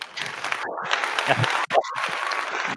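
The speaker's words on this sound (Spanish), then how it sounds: "te mereces un fuerte aplauso" Applause from an audience after a data talk on Spanish reservoir water levels, dense clapping that breaks off briefly midway and then resumes, with some voices mixed in.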